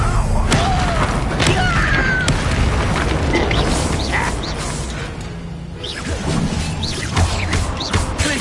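An Incendio fire spell in a Harry Potter video game, a dense whooshing burst of flame with booms and crashes layered over busy battle effects and a voice in the clip.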